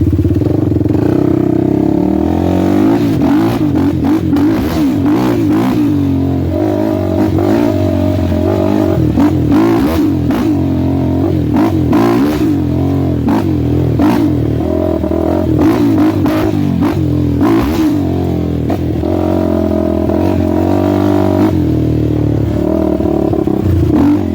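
Suzuki LTR450 ATV ridden through wet bogs, its engine loud and close with constantly rising and falling revs, throttle blips and clattering over uneven ground, continuing without pause and with no voices.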